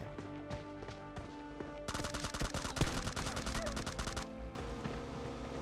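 Rapid automatic gunfire in the mobile game PUBG Mobile, dense bursts of shots over game music and ambience, loudest in the middle stretch, with a voice speaking now and then.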